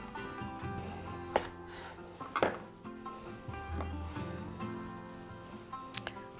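A knife halves a peeled butternut squash on a cutting board, giving two sharp, close knocks amid light kitchen clatter and low background hum, with no talking.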